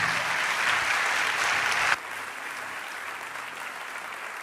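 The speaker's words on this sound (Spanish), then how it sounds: "Dale un aplauso fuerte a Dios." Church congregation applauds loudly for about two seconds, then keeps clapping at a lower, steadier level to the end.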